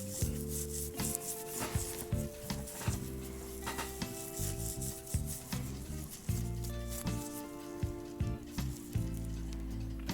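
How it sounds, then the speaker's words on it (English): A small brass nut from a Regula cuckoo clock polished by hand, giving a steady close rubbing and scrubbing sound in short repeated strokes, with faint background hum and no talking. "that little brass nut there could do with a little bit of a shine up"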